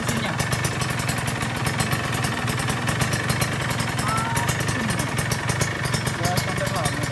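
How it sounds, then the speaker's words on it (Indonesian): A Kawasaki Ninja SS motorcycle engine runs at a steady, fast-pulsing idle close by, with a brief higher whine partway through and faint voices over it. "Suara mesinnya"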